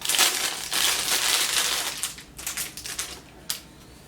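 A product package holding wooden baby milestone cards is torn and unwrapped, giving bursts of loud crinkling and crushing paper followed by a few sharper, scattered rustles and clicks, close up, with no talking.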